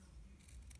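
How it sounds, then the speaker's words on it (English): Paper snips cutting through paper, a short close crisp snipping of two or three quick cuts, alone with no talk. "So with your paper snips, you're going to eyeball a margin like that."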